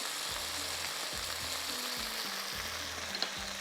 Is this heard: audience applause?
no